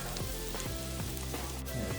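Garlic sizzles in a hot pan on the stove while garlic butter shrimp is being made, a steady, close crackling fry with faint small pops and no talking.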